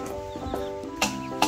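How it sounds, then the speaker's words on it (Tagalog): Small chickens cluck in a pen, with a few short clucks and chirps close by against a faint steady background hum. "Maliliit na mga manok ay."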